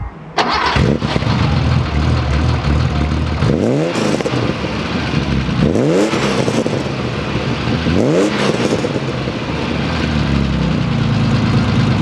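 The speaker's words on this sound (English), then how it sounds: "That air-cooled engine sounds so good." An air-cooled Porsche 930 911 Carrera engine cranks and fires up loudly, then settles into a rough, burbling idle broken by three throttle blips that rise and fall.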